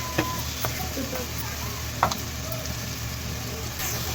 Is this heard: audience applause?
no